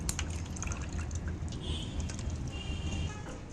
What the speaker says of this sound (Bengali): এই জলটা ফেলে দিচ্ছি আমি